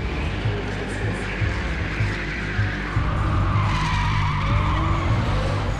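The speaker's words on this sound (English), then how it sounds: "drifting, sliding and having fun" Car tires squeal and scrub continuously as a car drifts and slides, loud and close over a roaring engine for several seconds, with no voices.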